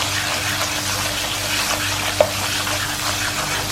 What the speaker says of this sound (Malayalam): ഇത് ഇഞ്ചി വെളുത്തുള്ളി നമ്മുടെ ബട്ടറിൽ കിടന്ന് നന്നായിട്ട് മൂക്കണം.